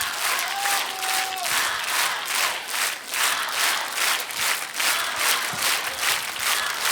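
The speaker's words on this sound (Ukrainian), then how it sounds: "І всі ці оплески зал аплодує стоячи все це для тебе" A concert hall audience gives a standing ovation after a performance from The Phantom of the Opera, a loud sustained wash of many clapping hands with crowd noise and a few brief vocal sounds mixed in.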